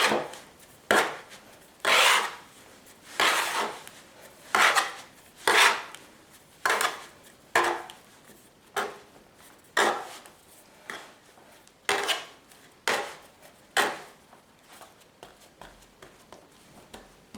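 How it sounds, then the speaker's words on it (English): A bench knife scrapes and folds sticky whole grain bread dough on a work surface, about twenty separate close rasping strokes in a loose, uneven rhythm, each a short scuffing sweep with quiet gaps between. "Here's the part where you may want to use the bench knife to fold the dough onto itself."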